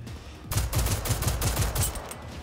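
Rapid automatic gunfire in the video game Generation Zero, a dense stream of loud close shots starting abruptly after a brief quiet moment and continuing without pause.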